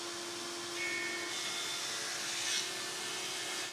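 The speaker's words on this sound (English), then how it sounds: "so I'll run them through the thicknesser" A thicknesser planes oak boards with a steady, loud machine whine and rushing hum that lasts the whole stretch, swelling slightly as the wood feeds through.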